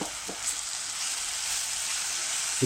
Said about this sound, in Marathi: छान आपण परतून घेऊया आता